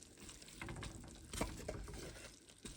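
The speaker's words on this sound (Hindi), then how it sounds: "अभी थोड़ा धनिया डालेंगे, धनिया डाल के मिक्स कर लेते हैं अच्छी तरह से।" Cooked chitki mitki (gawar) vegetable is stirred with coriander in a pan, giving faint scraping and soft wet shuffling with a few sharper knocks from the spoon, quiet and close, with no talking.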